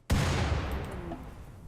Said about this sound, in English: That was quite the explosion, actually.